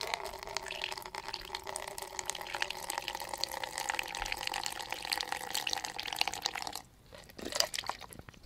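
Steady trickle of water from a neti pot running through a nostril, pouring and splashing continuously, then briefly stopping before a short renewed splash near the end. No talking.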